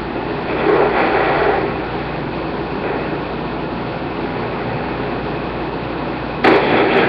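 A steady, loud rumble of a passing train in Call of Duty: Black Ops 2 runs throughout, with a brief sharper burst near the end.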